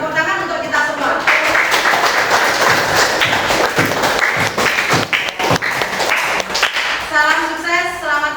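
A crowd bursts into lively clapping and applause, with a voice speaking at the beginning and end.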